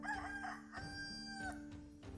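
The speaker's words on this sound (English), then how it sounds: "Every morning, Chanticleer mounted the rooftop and heralded the morning with his clear crow." A rooster crows in a farmyard, one sustained cock-a-doodle-doo with a clear harmonic call, heard alone and fairly faint.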